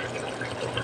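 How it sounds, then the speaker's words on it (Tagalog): Water pours steadily into a cooking pot holding pork sinigang with softened tomatoes, a continuous close splashing fill with no talk. "Lalagyan na natin ng tubig."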